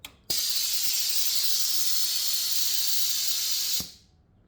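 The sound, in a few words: air compressor auto drain valve hissing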